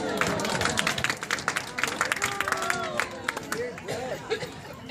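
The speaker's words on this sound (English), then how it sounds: "Give Gloria a big round of applause." A magic show audience claps for a volunteer, light scattered applause at a modest distance mixed with crowd chatter and voices talking over it.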